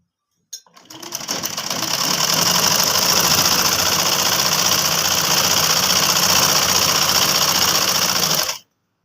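A sewing machine stitching a straight seam on a kurti, starting abruptly and running in one continuous fast, even whirring rattle for about eight seconds before stopping sharply, close and loud with no talk.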